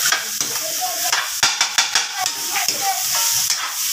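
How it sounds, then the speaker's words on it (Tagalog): Tomato paste with a little oil sautés for baby back ribs in a steady hiss and sizzle, with a spoon scraping and tapping the pan in irregular strokes, loud and close. "Lagyan natin ang konti mantika para mas maganda ang pag-gisa natin"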